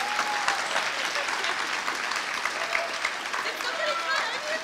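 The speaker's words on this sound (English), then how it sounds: "So give a round of applause for them." An audience at a skeptics' conference applauds the event organisers, a full, even round of clapping from a large crowd that carries on steadily.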